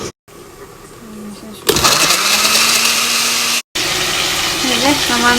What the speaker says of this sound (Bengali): এখন ব্লান্ড করে নিই